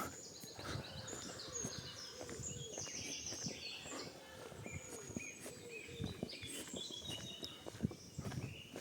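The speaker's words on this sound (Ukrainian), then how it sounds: "Послухаємо спів пташок." Birds chirp and sing in a busy outdoor chorus in Truskavets, Ukraine, in late spring, overlapping calls at moderate distance with steady ambient background.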